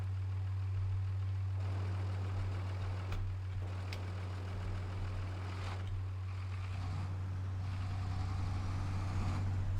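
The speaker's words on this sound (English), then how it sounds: "And we can start the engine." A Case Maxxum 5150 tractor engine idles in Farming Simulator 22, a steady low diesel hum with a constant droning tone and slight fluctuations, heard alone.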